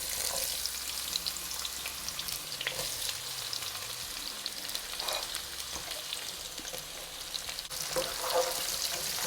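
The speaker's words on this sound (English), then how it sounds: "we're going to kind of shallow fry the onions for a good 10-12 minutes on medium to low heat until they are beautifully golden" Onions shallow frying in hot sunflower oil over medium-low heat for a vegetarian kofta curry, giving a steady, close crackling sizzle with occasional louder pops and no talking.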